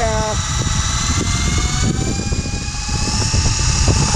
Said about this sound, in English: this RC helicopter that we're fishing with is not just any RC helicopter